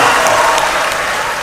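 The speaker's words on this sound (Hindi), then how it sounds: "मेरे इतनी कमजोर ताली से काम नहीं चलेगा है तुमको" An audience at a poetry recital breaks into dense, loud applause that holds steady for the whole moment.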